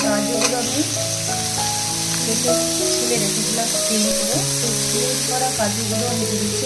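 Cut potatoes and raw cashews frying in a pan with turmeric powder, a continuous loud sizzle with bubbling crackle throughout, under a melodic tonal backing.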